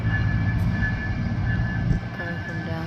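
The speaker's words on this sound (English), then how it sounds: "a white fast train" A fast passenger train passes near Skagway, Alaska, a loud continuous rumble with a faint steady tonal whine, easing slightly toward the end as it moves by.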